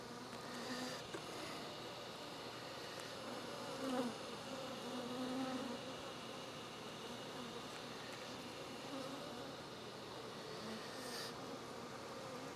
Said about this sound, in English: Then the bees are all in the way.